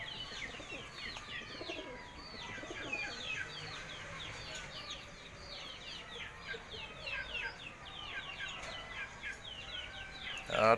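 Pigeons on a rooftop coo and flutter in a quiet outdoor setting, a soft continuous chorus of bird calls over low background hiss, fairly distant, with a brief louder rustle at the end.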